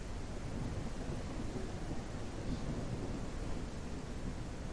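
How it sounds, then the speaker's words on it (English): A raging thunderstorm at sea in the middle of the North Atlantic Ocean fills the air with a dense, continuous roar of rumbling storm noise, steady and loud, with no voices. "a raging thunderstorm in the middle of the North Atlantic Ocean"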